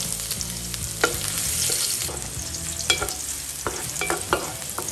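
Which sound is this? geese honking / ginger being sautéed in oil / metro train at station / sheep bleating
ginger being sautéed in oil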